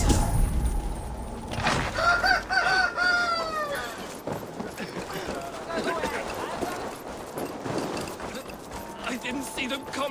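A rooster crows in Assassin's Creed Valhalla, a loud, stretched cock-a-doodle-doo near the start, followed by clucking, hoofbeats and busy game effects, with voices speaking over parts of it.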